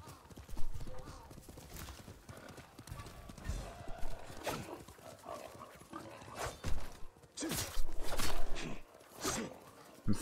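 Steady clip-clop of horse hooves walking, mid-distance, in the video game Ghost of Tsushima Director's Cut, with scattered game effects and a brief voice mixed in.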